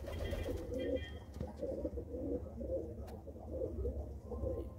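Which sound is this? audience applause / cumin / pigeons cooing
pigeons cooing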